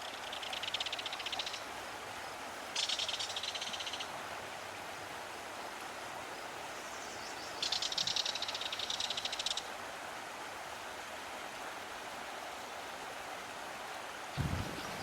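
A river runs steadily and close, its broad rushing wash unbroken for the whole stretch, with a few brief brighter chirps or splashes on top and a soft thump near the end.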